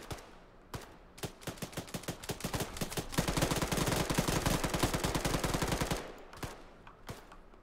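Gunfire in the video game Arma 3, scattered single shots building into long rapid automatic bursts, loud and close, then tapering back to a few isolated shots.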